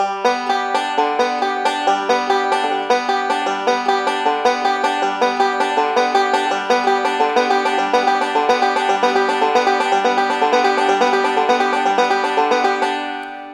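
Banjo played in a quick, continuous alternating four-finger roll of plucked notes with a steady, repeating rhythm, close and clear with no talking.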